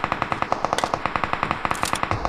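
Rapid automatic gunfire from an UMP-style submachine gun in the video game PUBG Mobile, a steady stream of about twenty evenly spaced close shots fired in quick succession, loud and alone.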